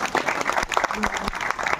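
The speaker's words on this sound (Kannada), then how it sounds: "ದಯವಿಟ್ಟು ಜೋರಾಗಿ ಚಪ್ಪಾಳೆ ಬರಲಿ" Farmers at a sugar factory protest meeting burst into a sustained round of clapping, a dense crowd applause heard fairly close, with a voice briefly audible over it.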